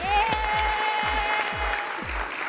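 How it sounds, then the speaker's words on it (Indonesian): A studio audience at a singing show applauds steadily while rhythmic thumping beats and a sustained musical tone play underneath. "Tepuk tangan dulu buat para pickers kita malam hari ini."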